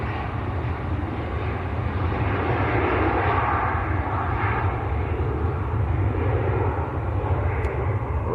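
Turkish Airlines Airbus A321 taking off for Istanbul at Manchester Airport, a steady, loud broadband engine roar holding throughout with no pauses.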